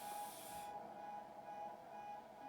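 A Class 377 electric passenger train in Train Sim World 2 gives off a steady hum and hiss with a constant tone, brighter and louder in the first moment, then continuing evenly.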